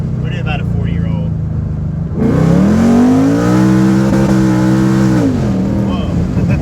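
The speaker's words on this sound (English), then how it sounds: "So I'm going to do the first pull and we'll see what it does" Whipple-supercharged 2018 Ford Mustang roaring through a dyno pull, engine note sweeping upward and holding loud and steady for several seconds before easing off, tires spinning, with voices talking around it.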